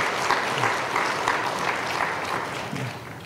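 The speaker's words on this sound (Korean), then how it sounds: "여러분 위로의 박수 한번 해주시길 바랍니다." Church congregation clapping during a Sunday service, a dense, even round of applause filling the short moment, with no talking.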